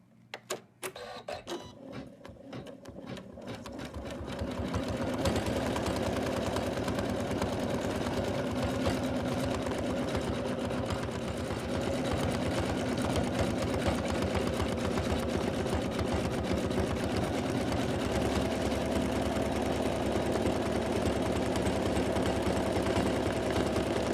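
An embroidery sewing machine stitching Santa's rosy cheeks, starting with a few separate clicks and short bursts, then settling into a loud, steady, rapid mechanical whir and needle chatter that continues to the end.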